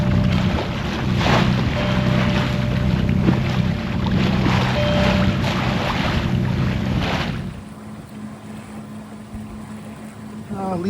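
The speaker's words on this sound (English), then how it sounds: "I got another boat coming up behind me. These guys must know where they're going. Fishing boat." Fishing boat motoring up from behind in open ocean water, a steady engine drone with wind and wave wash that continues loud, then drops away abruptly to a quieter hiss near the end.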